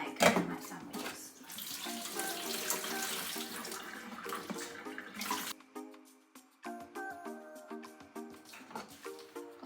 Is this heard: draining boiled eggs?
yes